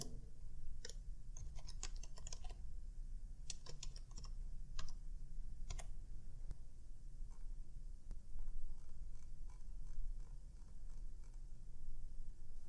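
Keys clatter on a computer keyboard as a chapter heading is typed in Microsoft Word, quick bursts of close, crisp taps separated by short pauses over a low steady hum.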